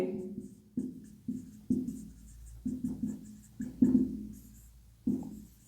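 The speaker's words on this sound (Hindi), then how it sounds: "लिखेंगे" Chalk or marker writing on a board during a math lesson: short scratchy strokes come in an irregular series, close and fairly loud, without talking over them.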